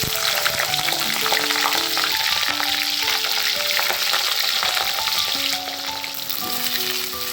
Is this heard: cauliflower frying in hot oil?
yes